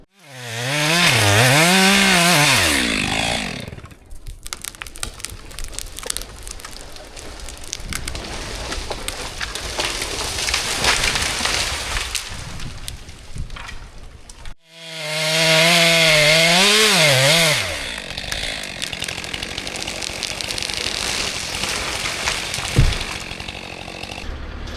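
A chainsaw cuts timber while a new woodlot road is cleared, its engine revving loud and high in two sustained bursts with a rough, lower working drone and crackling wood between them.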